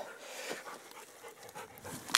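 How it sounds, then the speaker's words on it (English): Dog panting in quick, soft breaths nearby on a woods path, with a short sharp sound at the end. "Good dog."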